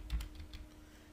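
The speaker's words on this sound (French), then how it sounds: "je vais taper VeraCrypt" Quick keystrokes clatter on a computer keyboard as a search term is entered: a short burst of a few close, crisp taps that fades within about a second.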